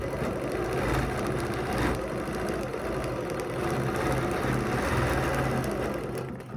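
Sewing machine stitching steadily during free-motion ruler quilting, a continuous close rapid mechanical hum and needle chatter with no pauses and no talk.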